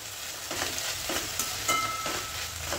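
Mixed vegetables with tomato and soaked soy chunks sizzle steadily in a pan for a brown rice pulao, with a spatula scraping and stirring at a regular beat close by.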